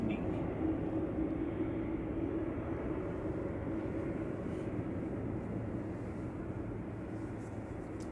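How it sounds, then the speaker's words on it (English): A Ryanair Boeing 737-800 sitting lined up for departure at Manchester Airport, a continuous broad rumbling engine roar heard from a distance, steady and unbroken with slight fading toward the end. "Another Ryanair just lined up going to Salzburg for the next departure, flight 1737, which is a 737-800."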